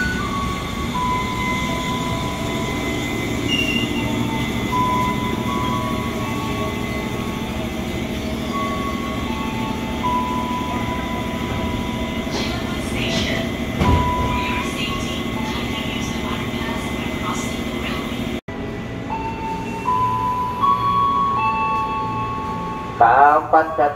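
KRL Commuterline electric train arriving at Cilebut station, a steady rumble of a long train with wheel and rail noise throughout, a sharp cut near the end, and station announcements and voices over it.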